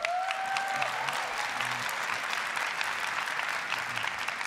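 Audience applause fills a large hall, a dense steady clatter of many hands clapping throughout at moderate level, with faint tonal whistles early on.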